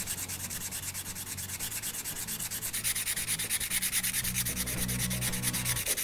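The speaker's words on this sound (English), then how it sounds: "I have hours of sanding to do." Steady, rhythmic back-and-forth rasping of sandpaper on wood by hand, close and continuous, with a faint low hum in the background.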